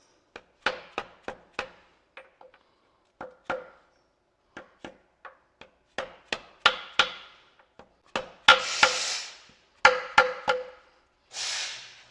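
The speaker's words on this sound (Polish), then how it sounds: "młotek i coś, czym możecie go uderzyć." Sharp hammer taps on a seal being driven into place, repeated irregularly in short bursts, some single and some in quick pairs, close and fairly loud with silence between strikes.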